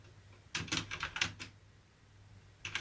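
Typing on a Gamepower Overlord computer keyboard, a quick run of crisp, close keystrokes followed by a pause and a short final burst of clicks.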